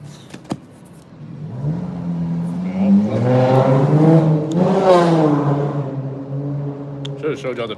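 Road traffic rolls past close by as one car swells in a long accelerating engine drone, rising and fading over several seconds amid steady background road noise.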